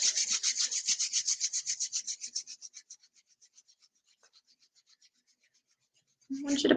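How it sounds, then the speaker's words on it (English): Hands rubbing together briskly to generate heat, a rhythmic dry swishing of skin on skin that starts loud and steady, then fades into softer, slower strokes before a brief low sound at the end. "bring your hands in front of you, rubbing them together,"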